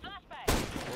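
A Scout sniper rifle fires in Counter-Strike 2, a single sharp, loud shot bursting in midway and ringing out with a noisy tail, preceded by faint game sounds.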